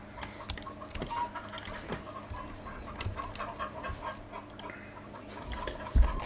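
Free-range chickens cluck in the Star Stable Online video game, short scattered clucks and ticks at close range over a busy ambient bed, with no talking.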